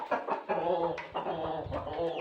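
Chickens cluck and squawk together at close range, crowding and waiting to be fed leaves in a garden, a busy, continuous flock chatter.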